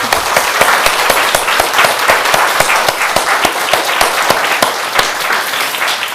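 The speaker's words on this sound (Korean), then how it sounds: "스스로에게 박수 한번 해볼까요?" A church congregation gives a steady round of applause at the close of a year-long prayer school session, with dense, continuous clapping held at an even level throughout.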